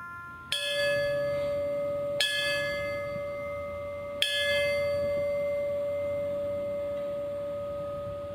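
A ceremonial bell rings three times at slow, even intervals at a September 11th memorial ceremony, each strike leaving a long, clear ringing tone that hangs in the air.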